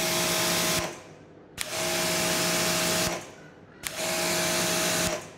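A Quivr pressure washer sprays in three long bursts, each starting abruptly with a sharp click at the trigger pull and holding a loud, steady hissing roar before cutting off.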